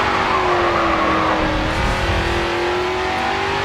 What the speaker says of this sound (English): There's a drift.